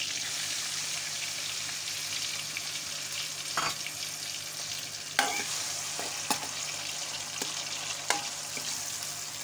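Urad dal cooks in a pot with a steady, soft sizzle, broken by a few sharp clinks and scrapes as a spoon stirs and knocks against the metal rim.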